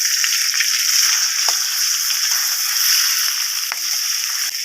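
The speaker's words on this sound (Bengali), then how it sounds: "মাছগুলো বেশিক্ষণ ভাজবো না, একটুখানি এদিক ওদিক উল্টে পাল্টে নিয়ে নামিয়ে নেবো।" Fish fries in hot oil, a bright continuous sizzle with a few soft knocks as the pieces are turned over in the pan.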